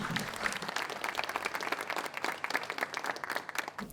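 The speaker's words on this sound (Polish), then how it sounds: "I wielkie brawa i wielkie gratulacje" Applause from an audience at an Ekolaury 2014 awards ceremony, a steady patter of many hands clapping at moderate distance, fairly soft throughout.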